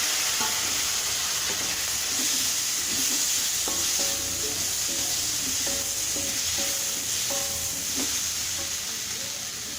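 Tomatoes sauté in a hot pan for a pigeon pea curry, giving a steady, loud sizzle and hiss with intermittent scraping and stirring clatter close by.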